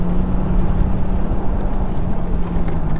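A 2001 Corvette on a race track, its engine giving a loud, steady, low droning roar heard close up throughout, with no voices.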